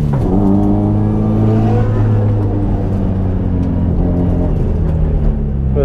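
A go-kart engine on a desert track revs loudly and steadily up close, its droning harmonic tone rising and falling while driving, with no talk over it.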